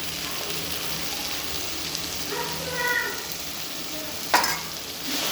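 Turmeric and spices being stirred and sautéed in a pan, a soft steady frying hiss with light scraping of the spoon and a sharp clink near the end, no talking.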